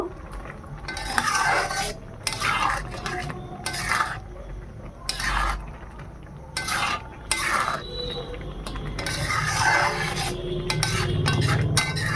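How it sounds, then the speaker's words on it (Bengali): Sugar being stirred into carrot halwa in a pan, a spoon scraping and clinking against the metal in repeated bursts with a faint sizzle underneath, close and alone without talk. "এবার দিয়ে দিচ্ছি চিনি ভালো করে চিনি মিশিয়ে নেব"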